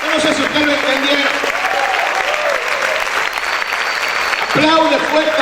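A church congregation applauds strongly in worship, a dense, sustained wash of clapping with a voice calling out loudly over it at the start and again near the end.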